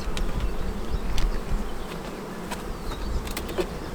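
Honeybee colony buzzing steadily during a hive inspection, a dense close hum with occasional individual bees passing near, no talking.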